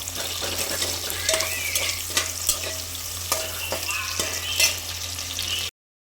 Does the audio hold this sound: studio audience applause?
no